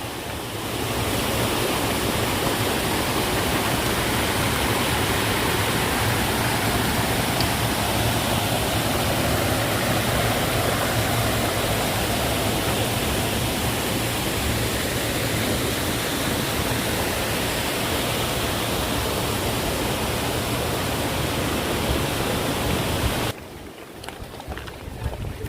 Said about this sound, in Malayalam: ഇതുപോലെ അരുവികളുണ്ട്